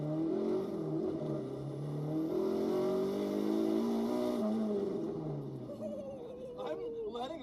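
Car engine climbing steadily in revs toward 8,000 rpm while pulling up a steep gradient, a loud continuous drone rising and then falling, with a brief shift near the end.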